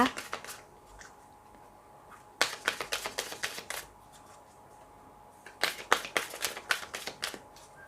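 Tarot cards being shuffled close by in two quick bursts of rapid riffling clicks separated by quiet pauses, with no talking.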